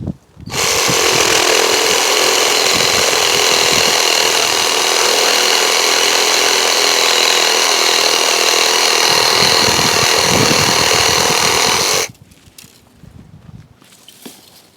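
A 21-volt GardenJoy cordless reciprocating saw cuts through a garden branch with a loud, steady buzzing rasp for about eleven seconds at close range, then cuts off, leaving faint rustling and clattering.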